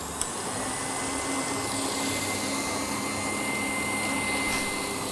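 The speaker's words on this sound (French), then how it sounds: "j'accélère pour mettre à la vitesse maximum pour serrer mes blancs" An electric mixer runs at maximum speed whipping egg whites into meringue, giving a steady, unbroken motor whir that stays loud and even throughout, with one tiny click near the start and no talking.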